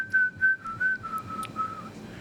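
A man whistles a tune in a public restroom stall, a clear pure melody of several sustained notes in a steady rhythm, close and alone.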